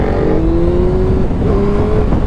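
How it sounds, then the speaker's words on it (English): A motorcycle engine revs loudly and up close in one sustained, steady roar, its pitch rising slightly and holding across the whole stretch. "give mine a rev. Rev it!"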